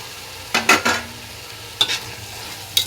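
Chopped tomatoes frying with masala in a pan for chicken biryani, stirred in a few separate bursts of scraping and sizzle, close and fairly loud with quiet gaps between.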